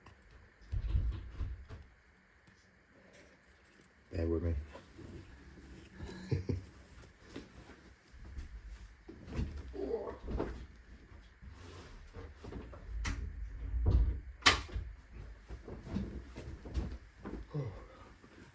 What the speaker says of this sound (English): probably should shut that bedroom door